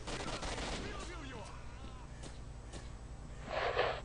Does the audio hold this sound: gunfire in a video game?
yes